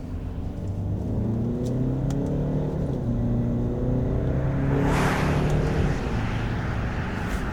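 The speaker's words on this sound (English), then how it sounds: "I'll just come down to second gear, give it some throttle." A four-cylinder SUV engine revs up steadily under throttle in second gear, a droning hum climbing in pitch, with a brief rush of wind noise partway through.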